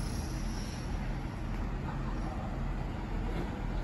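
Class 165 diesel train pulling away from Ealing Broadway station at night, a steady, close rumble of engine and wheels with broadband roar holding level throughout, no voices.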